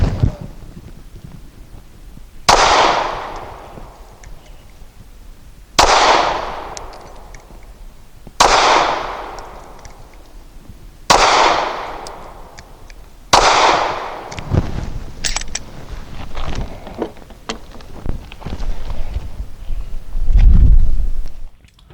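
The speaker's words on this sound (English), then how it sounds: "Now for 5 shots from 7 yards using Nosler 124 grain match." Five evenly spaced shots from a Steyr S9-A1 pistol firing Nosler 124 grain match ammunition at 7 yards outdoors, each a loud sharp report a few seconds apart, followed by faint handling noises.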